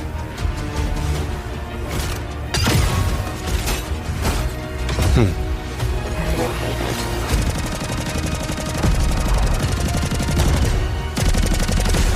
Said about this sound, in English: But they, of course, got my pulse rifle.